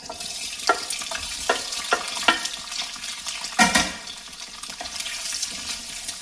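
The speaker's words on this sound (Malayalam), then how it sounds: "ഞാൻ ഒരു 2 ടേബിൾ സ്പൂൺ സൺഫ്ലവർ ഓയിൽ ചേർത്തിട്ടുണ്ട്. അതിലേക്ക് ഈ മുട്ടയുടെ വെള്ള പാർട്സ് ചേർക്കാം." Chopped boiled egg whites sauté in sunflower oil over medium flame, with soft sizzling and repeated spatula scrapes and taps in a loose rhythm, close by, with no talking.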